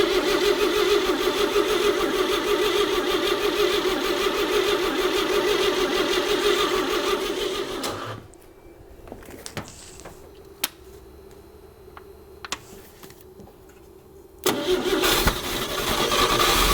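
A 1957 Chevrolet 150 that sat parked for 40 years fires up and runs loud and steady, then cuts off abruptly into near quiet with a few clicks before the engine roars back to life.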